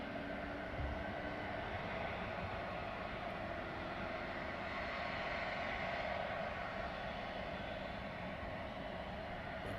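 Jet aircraft departing East Midlands Airport at night, a steady distant roar of engine noise that holds evenly throughout with no voices.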